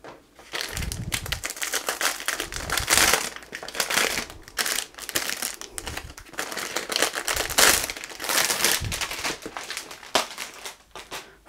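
Diamond painting kit being pulled out of its extra plastic wrapping, with steady close crinkling and rustling of plastic film and occasional sharper crackles throughout.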